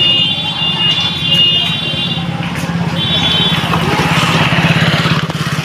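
A homemade electric bicycle converted from an ordinary Indian bicycle hums along under way, with a steady high electric whine and a low buzzing drone that keep up unbroken, loud and close.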